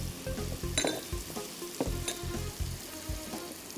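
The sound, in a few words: chicken, diced carrots and peas frying in a pan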